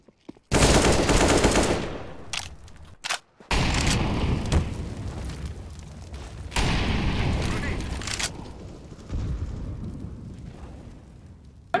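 Gunfire from the video game Valorant, played on a GTX 1050 Ti and Ryzen 5 1600 AF, rattles in loud bursts and single blasts over about twelve seconds, with brief gaps between volleys and a voice talking over parts of it.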